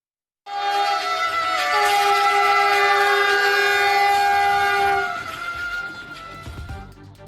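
A Vande Bharat train rushes past loud and close, a sustained roar with bright tonal horn-like whines for about four seconds before it fades into rumble and rattle.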